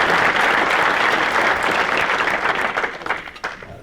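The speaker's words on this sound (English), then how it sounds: "so give them a round of applause." An audience at a city mayors' breakfast claps for volunteer ambassadors, a dense burst of applause that fades out over a few seconds.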